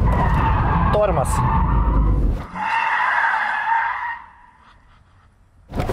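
A rear-wheel-drive car brakes hard and skids, a loud tire screech stretching over several seconds that fades out, with an engine note and a sharp knock near the end, heard under speech.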